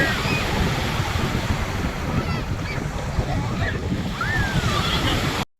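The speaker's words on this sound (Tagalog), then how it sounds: "malakas ngayong alon dito sa Metambisaan Beach" Strong surf rolls in at Metambisaan Beach, a loud, continuous rumble of breaking waves mixed with wind buffeting the microphone, and faint distant voices or calls rise briefly above it.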